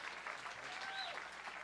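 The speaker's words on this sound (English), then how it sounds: "Give him a nice round of applause" An audience at a country music showcase applauds a drummer, a brief burst of steady clapping with a faint tonal ring and slight crowd murmur underneath.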